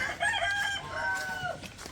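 Backyard chickens with a rooster crowing over steady clucking from the flock, close and clear for a couple of seconds with no talking.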